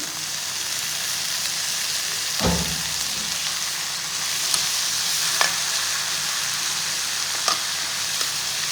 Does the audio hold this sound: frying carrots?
yes